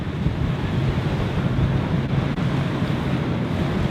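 High sea waves churn around mackerel fishing boats at sea, a continuous loud roar of surf and rushing wind buffeting the microphone, with no voices.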